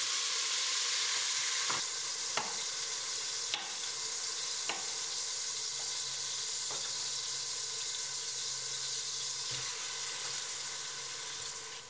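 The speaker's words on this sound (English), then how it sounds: "The garlic is getting brown now, so now it's time to add the tomatoes." Tomatoes dropping into browned garlic in a hot pan for home-canned tomato sauce, a loud steady sizzle with several sharp thumps and stirring clatters, close and without talk.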